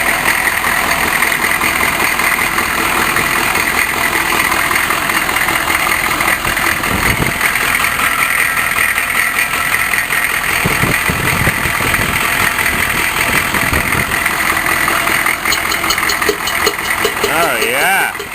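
A cold 6.5 turbo diesel engine idles steadily after its first start in eight or nine months, a loud constant rumble with a possible exhaust leak, while people talk over it.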